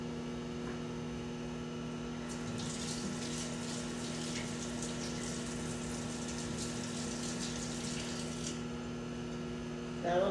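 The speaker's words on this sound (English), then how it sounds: "Let me rinse my spoon off so we can use it again." A kitchen tap runs while a spoon is rinsed under the water, a steady gushing stream over a constant electrical hum, close and fairly quiet, with a brief clink near the end.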